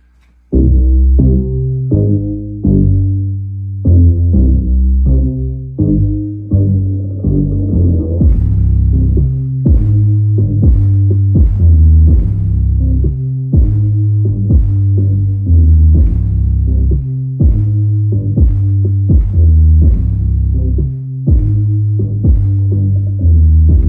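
Bass-heavy music pounds through a car audio system built on a Plinius PHF650D amplifier driving Scar 12-inch subwoofers. Loud, throbbing low notes pulse in a steady rhythm for the whole stretch, with no talking.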